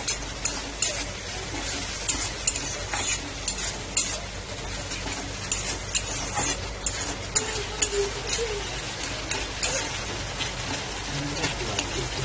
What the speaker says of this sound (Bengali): আদাটা ভাজা হয়ে গেছে এবার দিয়ে দেবো টমেটো কুচি আর সাথে একটু নুন আর হলুদ দেবো